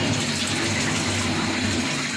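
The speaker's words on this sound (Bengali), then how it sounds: "এর মধ্যে আমি এটা আমি ঢেলে দেবো এখন" Pudding mixture is poured over hardened caramel in a pan, a continuous loud liquid gush and splash lasting the whole stretch, close and steady with no talking.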